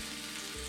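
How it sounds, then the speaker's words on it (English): Tortilla dipped into very hot birria jus, frying and sizzling steadily and close up, a brief continuous crackle with no talk. "You can hear it sizzling, and it's gonna close itself back up."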